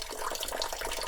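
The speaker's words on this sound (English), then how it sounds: "this water's just been running constantly for several days now" Water from an underground stream running steadily into a bunker excavation, a constant trickling flow, faint and unbroken with no talking.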